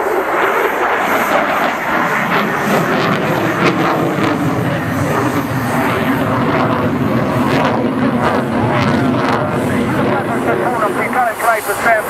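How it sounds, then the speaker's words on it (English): A delta-wing military jet at an airshow roars loudly and continuously as it flies toward the crowd, a broad sustained engine rumble and whoosh with a commentator's voice heard over it. "he set the aircraft to fly towards us, show it 50 square meters of wing surface and typical delta shape"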